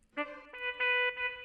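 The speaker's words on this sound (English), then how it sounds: "One, again from Purity, which is this saxophone basically" A few short sustained reedy notes from a saxophone sample, bright and tonal, played alone in a brief melodic phrase.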